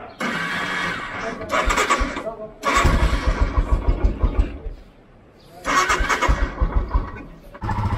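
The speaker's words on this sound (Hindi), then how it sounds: "कोल्ड स्टार्ट करनी है" A motorcycle gets a cold start on a Ladakh trip in bad weather. Two or three cranking attempts catch into rough, loud engine bursts, each dropping back between tries.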